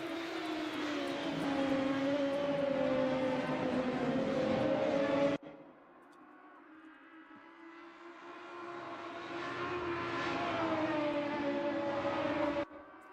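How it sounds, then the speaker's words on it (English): A Volvo S40 Super Touring BTCC race car engine in a sim racing game at Road America, howling steadily at high revs, cutting out abruptly, then building again to a loud sustained wail before another sharp cut. "pretty iconic sounds coming out of these BTCC cars"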